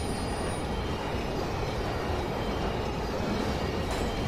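A train passes in the video game Urban Chaos Riot Response, a steady, dense rumble of rolling carriages that stays constant throughout.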